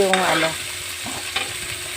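Ginger sautés in a pan for sarsiadong isda, a continuous bright sizzle with a soft clink of stirring early on and a brief scrape midway.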